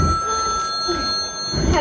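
A telephone rings steadily while someone places a call to a doctor's office, its bright electronic tone sustained and fairly loud throughout, with low rumbling noise underneath.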